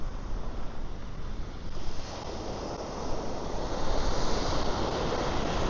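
Ocean surf rolls onto a beach at Bang Tao in Phuket, Thailand, a steady broadband wash of waves mixed with wind buffeting the microphone, loud and continuous without speech.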